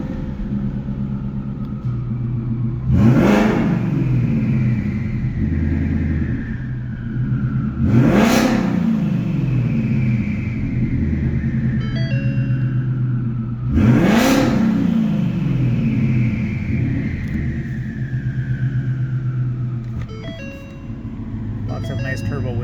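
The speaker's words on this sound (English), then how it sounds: "Lots of nice turbo whistles." A 2019 Ford Mustang twin turbo with a full exhaust upgrade using OEM active valves revs three times in quiet mode from inside the cabin, each loud surge trailing off into a falling turbo whistle over a steady idle rumble.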